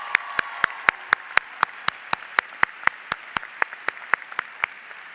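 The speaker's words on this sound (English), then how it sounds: "Let's give them a round of applause." A single person claps slowly and evenly, about twenty crisp, close claps in a steady rhythm, at a 2022 Coronado High School graduation honouring National Merit Scholars.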